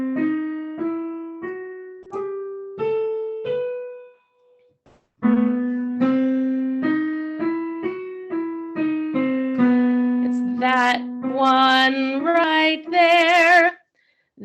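A piano plays a scale with a flat second, C natural, as single, evenly spaced notes climbing and then repeating after a short pause, with later notes ringing more brightly.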